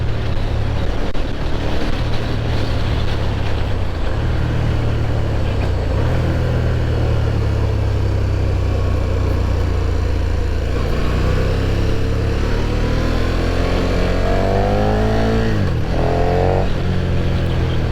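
A KTM 1290 Super Duke R engine runs steadily while riding, a loud continuous drone with gear changes and rising revs toward the end, no voices.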